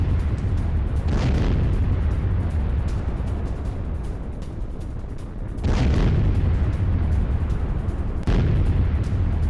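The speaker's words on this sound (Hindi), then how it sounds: "स्मर्च MLRS से रूसी सेना ने की शेलिंग।" Heavy explosions from Russian Smerch multiple rocket launcher shelling in Ukraine, with loud booming blasts near 1, 5.5 and 8.5 seconds over a constant rumbling, roaring background.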